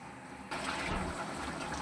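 Chicken curry simmering in a pot, a steady broadband bubbling wash that starts abruptly after a short quieter lead-in and continues evenly, close and moderately loud with no talking.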